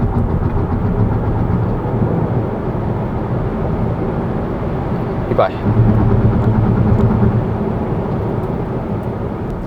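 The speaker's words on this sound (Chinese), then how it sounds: "可以听到啊，这个轮胎根本抓不住它的扭力" A high-spec 2023 BYD Dolphin electric car launches hard in Eco mode, its tyres unable to hold the torque. A steady loud road and tyre roar runs throughout, with a brief rising squeal midway, and people talk over it.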